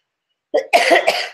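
A single loud, close cough, a short bark followed by a rougher, drawn-out hacking burst, with silence before it.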